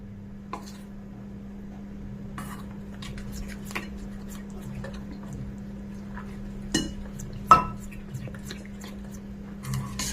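Soft, scattered clinks and scrapes of a utensil against a bowl as batter for cauliflower Manchurian is mixed, over a steady low hum, with a few louder knocks.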